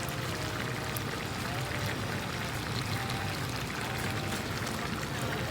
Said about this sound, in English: then you're going to add some water